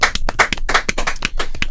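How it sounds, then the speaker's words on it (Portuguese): Studio audience applauding for artists at a live Portuguese talk event, a dense, steady burst of many hands clapping at close range with no voices over it. "Palmas!"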